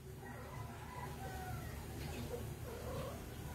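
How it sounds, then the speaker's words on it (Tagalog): Cats meow and caterwaul faintly at a distance over a steady background murmur, the calls drawn out and overlapping with no clear talk. "Yan o, mga pusa namin o."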